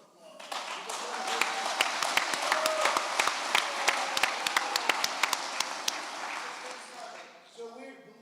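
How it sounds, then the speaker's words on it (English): An audience at a Republican congressional primary debate applauds, a swelling round of clapping with sharp individual claps standing out, tapering off at the end as a voice begins to speak. "Give yourselves a round of applause."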